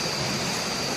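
A waterfall at night in the Konkan region roars as a steady, dense rush of water that fills the whole second evenly, close and continuous with no voices.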